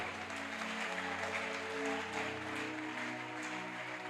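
A church congregation applauding during a Sunday service, steady sustained clapping and crowd noise throughout, moderately distant, over a low sustained musical drone.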